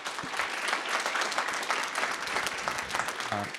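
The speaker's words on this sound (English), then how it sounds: "Maybe we'll give a round of applause." An audience at an industrial policy conference session gives a round of applause, steady dense clapping held throughout, with a brief bit of voice near the end.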